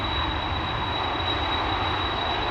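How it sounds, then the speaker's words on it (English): Jet airliner engines at Amsterdam Schiphol Airport, a steady loud broadband roar with deep rumble, continuous and unbroken throughout with no talking. "listen to this airplane and its engines"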